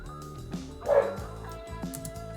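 Neighbouring dogs bark repeatedly through a wall, a series of muffled yaps with one louder, fuller bark in the middle.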